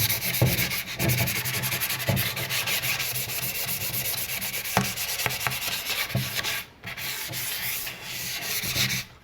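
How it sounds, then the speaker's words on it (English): Steady rhythmic scraping of 220-grit sandpaper lightly scuff-sanding a cabinet door, close and continuous with brief pauses, a dry rasping rub. "I have some 220 grit sandpaper, which is what I usually prep surfaces with."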